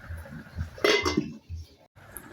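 A metal lid clinks down onto a cooking pot of Bhetki fish-bone chorchori, one short clattering contact up close with faint kitchen background around it.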